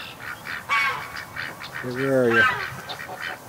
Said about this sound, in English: there is another Canada goose down there